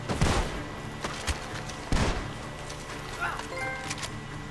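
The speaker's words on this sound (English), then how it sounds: "Gunshots are coming from that barn" Gunfire rings out from a barn in the video game Red Dead Redemption 2: a few sharp, fairly distant shots spaced apart over a quiet background, with some faint rustling between them.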